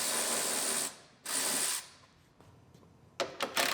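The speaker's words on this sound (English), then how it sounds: "Pull the bolts out of the fender that hold the bumper cover on." Ratchet wrench clicking rapidly as bumper cover bolts are backed out of the fender of a 2018 Ford Explorer Limited AWD, two close, loud bursts of ratcheting, then a pause and a few short clicks and clinks.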